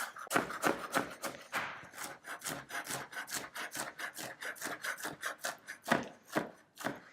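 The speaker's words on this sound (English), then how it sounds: "So I'm chopping some mango and pineapple" Knife chopping mango and pineapple on a cutting board, a quick run of steady, crisp close-up chops, no talk.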